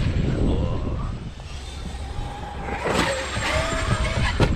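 A Traxxas Xmaxx RC truck on new Zeee batteries drives outdoors, its electric motor whining and rising under a continuous rough rumble of wheels over the ground, with no talk.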